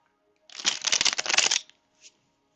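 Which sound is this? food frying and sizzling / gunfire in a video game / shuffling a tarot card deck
shuffling a tarot card deck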